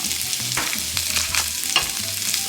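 Peppers fry in olive oil and butter with a close, steady sizzle, broken by a few soft stirring scrapes.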